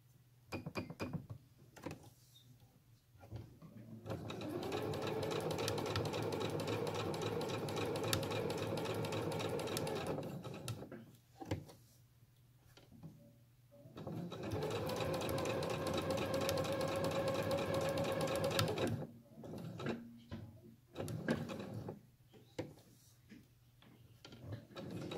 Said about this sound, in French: et quelques points arrière pour bien arrêter la couture.